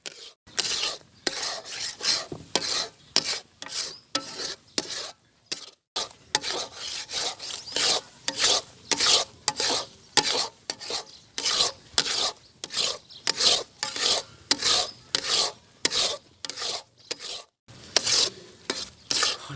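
Kush kush halwa being stirred and roasted in ghee in a pan, a loud close rhythmic scraping and rubbing that repeats steadily with brief pauses, over a faint sizzle.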